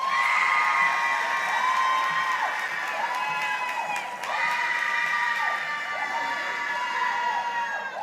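A crowd at a sheriff's office promotions ceremony cheers and whoops loudly, sustained shouts and high calls rising and falling over steady applause, with voices mixed in.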